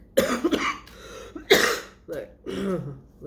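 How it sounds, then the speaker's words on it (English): A person coughs several times in short, sharp bursts, close and loud, between stretches of speech. "Sorry about the cough"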